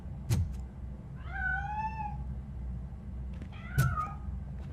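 A cat meows twice in a game titled ROBO: one drawn-out, rising-then-falling meow in the middle, then a shorter second meow near the end, with a couple of sharp knocks, all over a low steady background hum.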